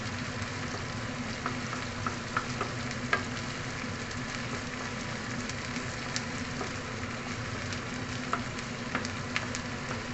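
Onions frying in a smoking pan for ground beef tacos, giving a loud, steady sizzle close by, with faint clicks of stirring now and then and no talk.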